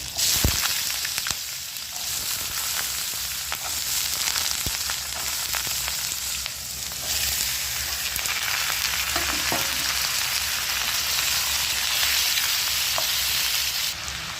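Potatoes go into hot oil already tempered with green chili and five-spice (panch phoron) for a Bengali potato curry, giving a loud, steady sizzle that runs the whole way through, with a few scattered stirring clicks and no voice.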